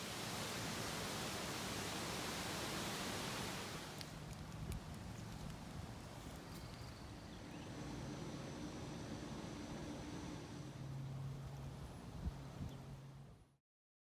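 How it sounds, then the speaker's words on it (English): Strong wind blows around a house, a loud steady roar for the first few seconds that eases into a quieter, gusting rush before cutting off abruptly near the end. "I would share some video with you of the wind at my house"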